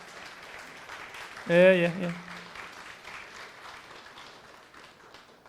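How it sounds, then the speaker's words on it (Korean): A church congregation at a Sunday service claps to encourage a member, a light, continuous patter that is briefly topped by a short spoken voice and then carries on softly. "선민이 고생했다고 박수 한번 격려 한번 해주면 좋겠습니다"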